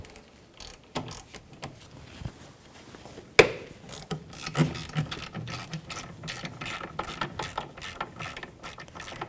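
A ratchet breaking free the 14mm caliper bracket mounting screws on a Jeep Patriot's rear brakes, a sharp crack followed by a run of quick clicking ratchet strokes, close and distinct with no talking.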